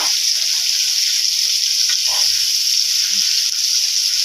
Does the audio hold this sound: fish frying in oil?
yes